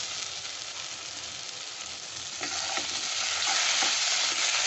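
Poppy seed paste fries in a pan with a continuous bright sizzle while a utensil stirs it, the sizzling swelling louder partway through alongside a few soft scrapes, close up with no voices.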